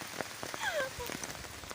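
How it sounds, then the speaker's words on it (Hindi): Heavy rain pours steadily during a downpour, a dense continuous patter of drops on surfaces close by, with a few faint chirps over it and no talking. "बहुत ज़्यादा बारिश हो रही है"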